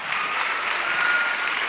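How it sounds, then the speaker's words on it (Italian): A big audience applauds at an evening event in Ollolai, Barbagia, a dense, steady wash of clapping heard near and loud throughout. "applauso grande."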